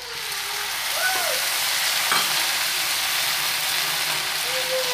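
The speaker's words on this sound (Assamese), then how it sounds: "কুন্দুলি ভাজি খুব ধুনীয়াকৈ ফ্ৰাই হ'ল।" Ivy gourd frying in a pan, a loud, continuous sizzle with stirring scrapes, heard close and steady throughout.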